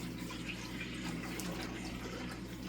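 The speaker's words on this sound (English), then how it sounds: "I'm going to start pouring some milk." Milk pours steadily into a big cooking pot for homemade feta, giving a continuous, even liquid rush that stays at a constant level throughout.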